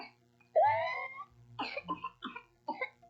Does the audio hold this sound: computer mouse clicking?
no